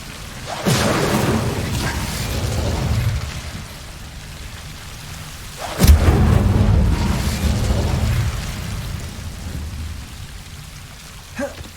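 Confringo and Incendio spell blasts in Hogwarts Legacy, two sharp explosive bursts each followed by a rumbling, crackling decay like thunder, the second blast louder, with a faint third pop at the close.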